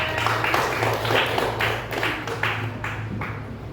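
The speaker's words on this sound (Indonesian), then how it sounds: "Kasih tepuk tangan." Classroom applause during a teaching session, a rhythmic burst of clapping with regular, strong strikes that soften toward the end over a low steady hum, close and loud.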